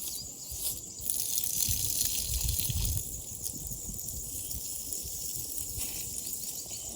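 Water gushes and splashes steadily while a motorcycle radiator on a Suzuki SV650 track bike is drained and flushed, a continuous close wash of liquid with a louder surge early on, no talking.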